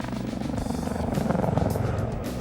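A helicopter in flight, heard as a steady, loud rotor and engine drone with a dense low thrum that continues throughout, with no talk over it.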